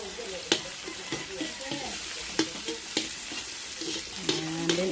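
Red onions and espada chili sautéing with ginger and garlic in a hot pan, a continuous close sizzle punctuated by sharp utensil scrapes and knocks, with murmured voices in the background.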